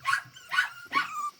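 Puppies give three quick, high yipping barks in close succession, close and clear, with a faint low rumble between them.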